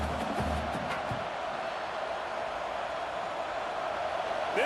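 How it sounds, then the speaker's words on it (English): Stadium crowd noise from the video game College Football 26 during a Wisconsin versus USC matchup, a steady distant roar of fans under faint commentary, with a brief low thump early on. "This crowd bringing the energy and noise early."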